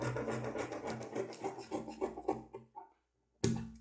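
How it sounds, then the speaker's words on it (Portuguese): Scissors cutting fabric along the edge of a sewing pattern, a close run of rapid rasping snips that pause briefly before one more cut. "agora eu vou cortando aqui rente com a borda do molde"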